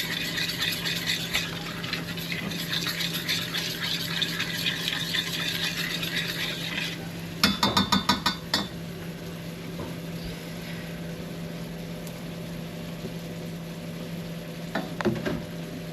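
Milk being stirred into curry in a pan on the stove, a soft continuous simmer and scrape with occasional sharper clinks of the utensil, no talking.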